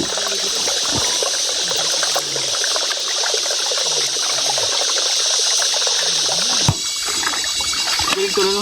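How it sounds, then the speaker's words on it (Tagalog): A small stream flows and trickles steadily outdoors, its close, continuous babble carrying under a dense layer of high insect buzzing, with a brief voice heard near the start. "So may dinaanan ulit kami na malit na sapa. May tubig po siya."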